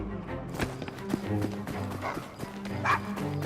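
A dog barks and yips in an Assassin's Creed Syndicate street scene near a London pub, short yelps over busy game ambience and music with some speech nearby.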